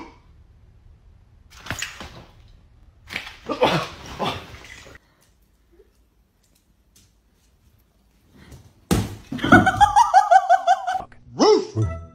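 A dog barks angrily at home in short loud bursts, with a pause in the middle and a final run of rapid, rhythmic barks.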